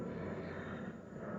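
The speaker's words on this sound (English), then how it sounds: "If you hear something in the background, that's an airplane." A fixed-wing airplane passes overhead, its engine drone a steady, broad, moderately loud roar filling the whole moment without any voices.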